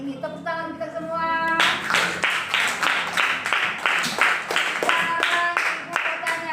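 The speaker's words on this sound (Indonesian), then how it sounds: "Tepuk tangan kita semua." A class of students clapping together in a classroom, a brisk burst of many hands that begins after a short spoken line and continues as dense, fairly loud applause.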